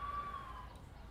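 Ambulance siren in The Coma: Recut, a steady wailing tone heard briefly with a low engine-like rumble underneath, fading slightly as the vehicle pulls away.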